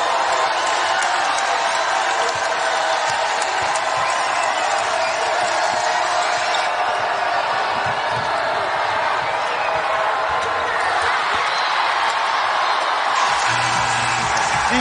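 A loud basketball arena crowd at a Texas vs Texas Tech Big 12 women's game roars and cheers steadily throughout, a dense continuous wall of noise with occasional whoops.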